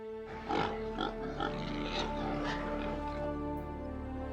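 Pigs in a farm field give a few snorting grunts and oinks in quick succession over a steady low hum of music, moderately close and not loud.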